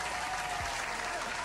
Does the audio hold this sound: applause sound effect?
yes